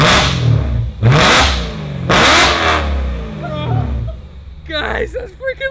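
A BMW E91 M3 with a full Valvetronic exhaust system revs loudly and up close in a series of sharp, rising blips, with excited voices talking over the engine near the end.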